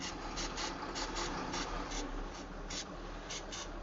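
Rusted bolts on a power plant radiator assembly are loosened with a ratcheting tool, giving a continuous close clicking and grinding with irregular bursts of sharper ratchet clicks over a dense mechanical hiss.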